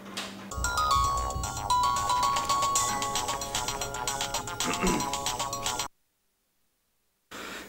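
A telephone ringtone plays a repeating electronic melody for an incoming call, loud and close for about five seconds, then cuts off into silence before a brief return of sound.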